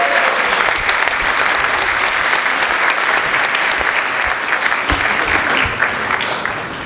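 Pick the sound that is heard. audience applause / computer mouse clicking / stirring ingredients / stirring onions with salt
audience applause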